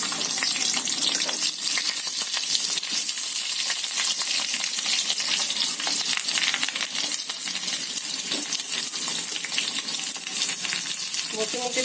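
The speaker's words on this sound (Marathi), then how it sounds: "प्रथम आपण वाटण भाजून घेऊया" Masala paste ingredients dry-roasting in a pan for okra gravy, a loud continuous crackling sizzle with steady stirring and scattered small clinks throughout.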